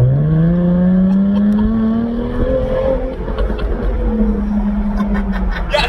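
Jaguar F-Type 400 Sport engine revving with the roof down, a loud rising engine note that swells, eases off and climbs again close by, with a brief chuckle over it.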